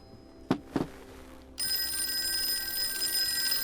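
Two short knocks, then an old-fashioned telephone bell starts ringing continuously, bright and metallic, with no voices.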